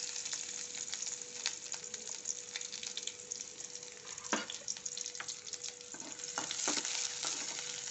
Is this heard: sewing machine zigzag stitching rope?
no